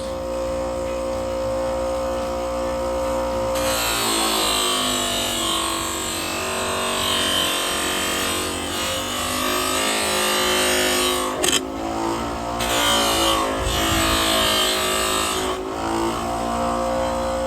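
A power polisher working over the door sills of a C10 truck, a loud continuous motor whine with shifting tone and brief dips as pressure changes, close and alone.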